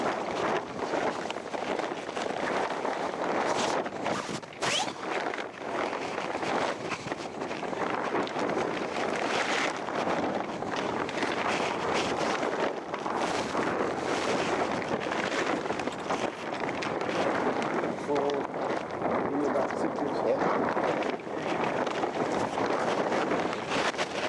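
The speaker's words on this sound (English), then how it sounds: "you can see it's a nice breezy day today" Steady breeze buffets the microphone on a windy day beside a Seaward 32RK sailboat during mast raising, a continuous broadband rush with occasional gusts and no talk.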